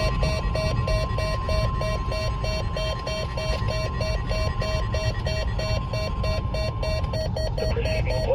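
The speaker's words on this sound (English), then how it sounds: "The proceeding was a test of the National Weather Service warning alarm tone." A National Weather Service warning alarm tone plays as a loud, continuous steady tone with a regular pulsing pattern, holding evenly for several seconds with no voices.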